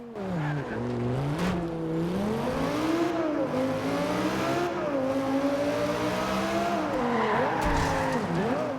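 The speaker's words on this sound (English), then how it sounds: "what makes this car is the engine, and it's an insane engine" A sports car engine revs hard and continuously in the video game Forza Horizon 2, its pitch climbing and dipping as the throttle rises and falls, loud and close throughout.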